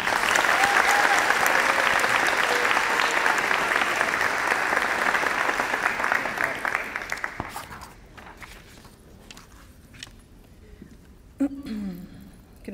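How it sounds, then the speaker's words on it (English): Loud audience applause for a graduate's mother at a school event, dense steady clapping for about seven seconds before fading out, followed by quieter room sounds and a brief voice near the end. "let's give a big round of applause to Gina's greatest supporter"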